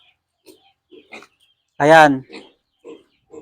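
A pig on an odor-free piggery farm lets out one loud, drawn-out squealing grunt at close range, with quiet speech before and after it.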